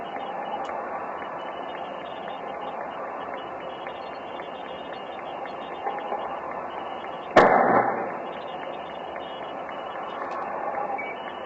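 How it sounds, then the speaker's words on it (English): A manhole explodes while firefighters investigate, a single sudden loud blast that breaks into a steady background hiss partway through and then fades back to the same noise, with no voices. "The explosion knocked the fire captain off his feet and into the bushes."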